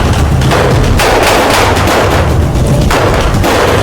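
Rapid volleys of gunfire from soldiers guarding a lab in a 3D animated sci-fi short, loud and close, with bursts of shots rolling in repeated waves and no talk.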